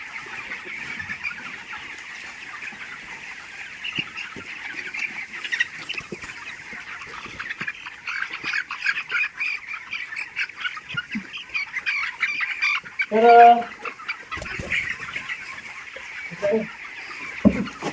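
A poultry shed full of 22-day-old chickens fills with continuous, crowded clucking and chirping from many birds, with a few louder squawks standing out near the end.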